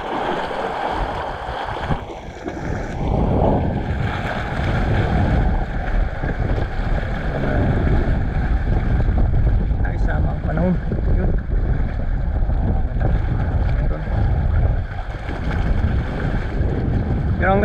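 A boat rocks on choppy sea at a fishing spot, with continuous water wash and wind buffeting the microphone throughout, fairly loud and close.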